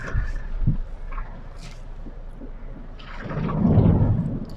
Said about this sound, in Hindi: बादल गरज रहे हैं भाई